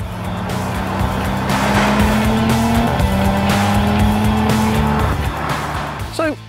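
A 2018 Audi RS 4 Avant engine roars steadily at close range, its pitch climbing and shifting through gears, with a brief voice near the end.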